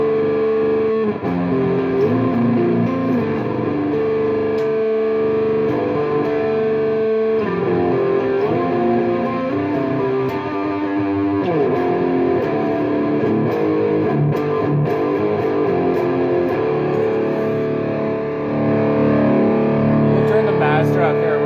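Heavily overdriven electric guitar through an Orange Super Crush 100 amp with gain maxed, playing loud, saturated chords and riffs continuously for a long stretch, with no pauses.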